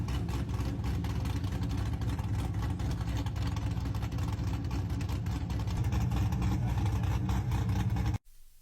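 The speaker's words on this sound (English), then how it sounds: "let's take a little look at the exhaust on this thing." Exhaust from a Pontiac GTO rumbles steadily at close range, a deep, loud, even drone that runs for about eight seconds and then cuts off abruptly.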